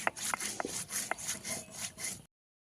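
Cumin being ground on a flat grinding stone for a Bengali fish curry, heard as a series of rough, rhythmic scraping strokes, close and moderately loud, with no voices.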